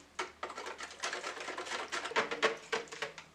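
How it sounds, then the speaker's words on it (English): Whisk beating sugar and wet ingredients in a bowl for moist cornbread, a fast, rattling patter of rapid strokes that stays quiet and close. "we are just going to whisk this together until it becomes nice and creamy in consistency"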